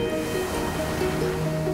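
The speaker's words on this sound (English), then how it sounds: "With the fierce waves tossing onto the moonlit shore." Ocean waves crash and wash onto a moonlit shore in a continuous, full roar of surf, loud and close with no break.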